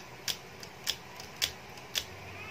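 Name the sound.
camera shutter being pressed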